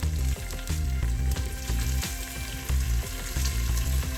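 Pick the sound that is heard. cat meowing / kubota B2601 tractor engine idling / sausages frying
sausages frying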